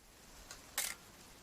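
A camera shutter clicks once in the video game What Remains of Edith Finch, a sharp mechanical snap preceded by a faint softer tick, close and clear against a quiet background.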